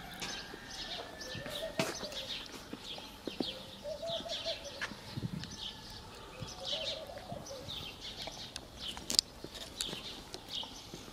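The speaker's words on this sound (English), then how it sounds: "You can listen to some birds." Birds chirp and sing around the spring at Wadi Musa near Petra, scattered faint calls over quiet outdoor ambience with a few soft coos and distant footsteps.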